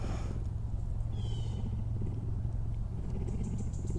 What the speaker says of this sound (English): Oh, I love that purr.